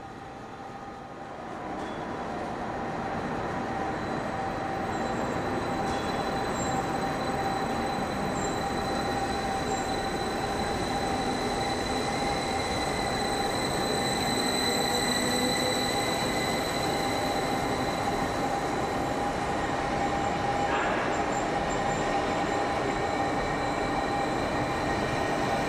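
A Berlin S-Bahn train at Spandau station rumbles steadily nearby, with a sustained high metallic wheel squeal ringing over the rolling noise throughout.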